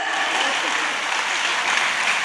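Steady, loud audience applause at a dance company's ninth anniversary event in Calicut, Kerala, with dense clapping filling the room for a couple of seconds without a break.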